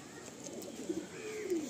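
A male Madrasi pigeon, one of several birds kept for sale in Kolkata, gives a few soft, low coos toward the end of the moment, faint against a quiet background with no voices.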